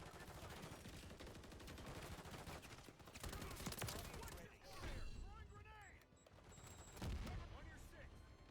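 Gunfire in the video game Call of Duty MW3 on PS5, dense bursts of automatic shots and impacts that rise and fall in loudness under a man's speech.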